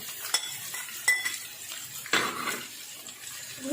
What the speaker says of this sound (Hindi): उनको हम अच्छी तरह से फ्राई कर लेंगे